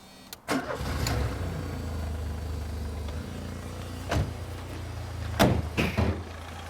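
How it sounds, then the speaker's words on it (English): A car's Ford CVH engine cranks and catches, then settles into a steady, low idle close by, with a couple of sharp knocks or door sounds during the run. "Shall we have a little listen to the engine?"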